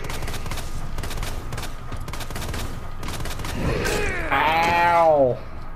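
Handgun gunfire in the video game Resident Evil 2: a steady run of rapid shots, then a loud, moaning creature growl rising over the shooting near the end.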